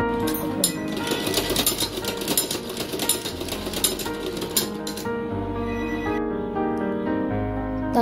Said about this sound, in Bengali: সো আমি এখন সেলাই শুরু করছি।